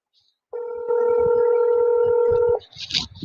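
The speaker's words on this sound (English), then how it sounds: "Rico, I'm gonna call him on the phone." A telephone sounds a steady two-tone dial tone for about two seconds while faint button presses tap beneath it, followed by brief higher beeps and noise as the call starts connecting.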